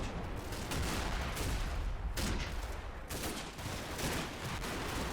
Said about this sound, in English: AT guns still firing.